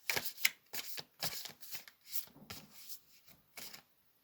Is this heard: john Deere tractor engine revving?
no